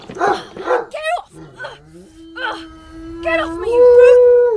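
A cartoon dog barks, whimpers and lets out whining, moaning yelps with a few sharp barks, followed by a sustained tonal note, all close and loud.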